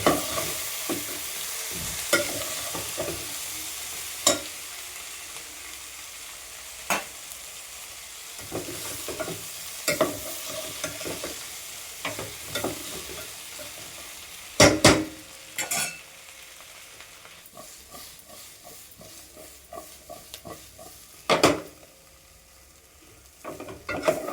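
A drumstick fry with peanut powder is mixed in a hot pan by hand. Repeated scraping stirs and sharp utensil knocks recur irregularly over a soft, continuous sizzle.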